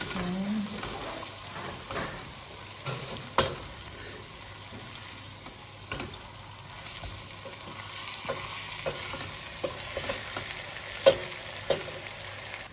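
Carp fish fry in a pan while being turned, a soft continuous sizzle broken by scattered scraping and clinking taps of a utensil against the pan.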